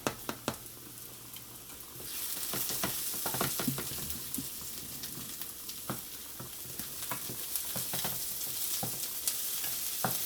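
Onions fry in a pan for baked spaghetti, a dense, steady sizzle that swells after a quiet start, with frequent spatula clacks and scrapes close up and no talking.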